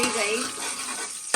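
Raisins sizzle in hot ghee while being stirred, a brief bright frying hiss with light scraping that stays fairly even throughout.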